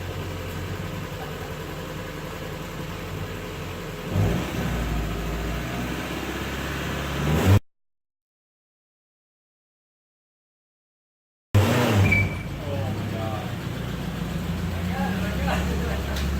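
A Mazda Miata engine revs unevenly during a fumbled clutch start, a steady mid-pitched drone with a surge partway through, then a gap of silence before the engine noise returns, while people talk nearby.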